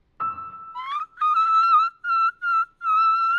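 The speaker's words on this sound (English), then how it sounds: "Like when you do a whistle tone, like if I do it up there, that's an E6." A singer produces a high, pure whistle-register tone around E6, several sustained, slightly gliding notes in short phrases, clear and alone with no background.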